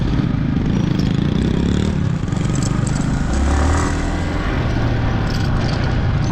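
A motorbike engine straining along a muddy, rough road near Anaikatti, Attappadi, Coimbatore: a continuous loud, labouring engine roar with slight rises and dips in pitch, close and steady for the whole stretch with no talk.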